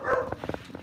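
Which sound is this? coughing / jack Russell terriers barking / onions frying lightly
jack Russell terriers barking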